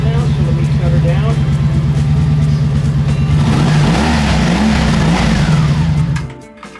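A warmed-up Honda Interceptor motorcycle engine idles loud and steady up close, with a low, even rumble. In the last half second it cuts off and drops to near silence.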